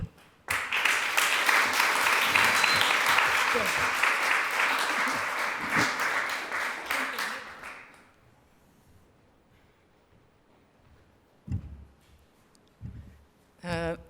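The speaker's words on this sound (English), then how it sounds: "Please, a round of applause for Naomi Peter" An audience applauds for Naomi Peter at a women and LGBTQI+ leadership event, a dense burst of clapping lasting about seven seconds before fading out, followed by a quiet room with a few isolated bumps.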